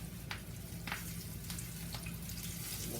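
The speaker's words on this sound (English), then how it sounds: "dust the chicken off, and throw it into the hot grease" Chicken wings fry in hot grease for old-school Buffalo wings, a steady close crackling sizzle with a few sharper pops and spatters breaking through the continuous hiss.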